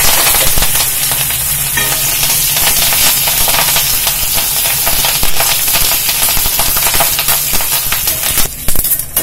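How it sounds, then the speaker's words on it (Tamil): Curry leaves fry in a little hot oil in a pan used for onion pakoda, making a loud, continuous close sizzle with scattered crackles and pops throughout. "கருவேப்பிலை பொரிஞ்சிருச்சுப்பா."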